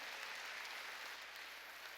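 A church congregation applauding during a Sunday sermon, a steady, even wash of many hands clapping, fairly quiet and distant, with no voices over it.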